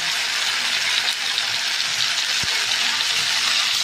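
Cauliflower frying in oil with salt and turmeric gives a steady, even sizzle with a soft bubbling hiss throughout, close and continuous, with no voices.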